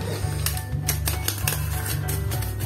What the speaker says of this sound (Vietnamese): Cắt thử gói này xem này.